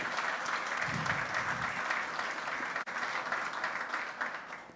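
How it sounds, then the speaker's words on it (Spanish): Steady applause from a large crowd at a university accountability event, dense continuous clapping that fills the whole stretch at moderate distance. "Fuertes los aplausos para ellos,"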